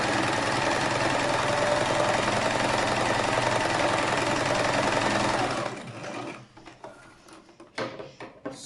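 A sewing machine stitches fabric for a homemade hat, a fast, steady mechanical whirring for about five seconds, then stopping, followed by faint handling clicks and rustles.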